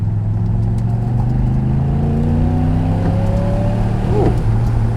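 A Hawk-built 289 FIA bodied Cobra replica with a Rover V8 and the Le Mans roof fitted, its engine droning loud and close from inside as it accelerates, pitch climbing steadily through the gears.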